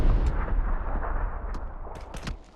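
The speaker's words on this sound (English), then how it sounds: "They're chucking grenades." Grenades blasting amid gunfire in the battle royale game PUBG, a dense stretch of booming explosions and sharp shots rumbling continuously, with several crisp bursts standing out near the end as the din fades.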